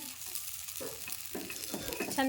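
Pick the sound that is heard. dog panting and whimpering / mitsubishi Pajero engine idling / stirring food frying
stirring food frying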